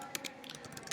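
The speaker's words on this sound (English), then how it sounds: "and then I can start typing" Fingers tap on a computer keyboard in a quiet room, producing a quick, faint run of light clicking keystrokes over a low background hum.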